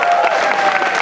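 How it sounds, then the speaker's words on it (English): An audience at an outdoor high dive show claps in a brief, dense burst of applause, loud and close. "How about a nice round of applause for Junjun of Longyearbyen?"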